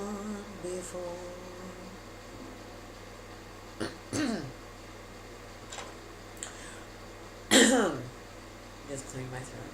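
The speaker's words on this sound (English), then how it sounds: "Just clearing my throat here." A man clears his throat a few times in a quiet room, short raspy bursts near the mic spaced several seconds apart, with faint humming or speech-like sounds at the start.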